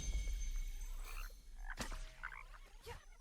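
Frogs croak in the video game Kena: Bridge of Spirits, several short croaks sounding one after another over a steady low ambient hum.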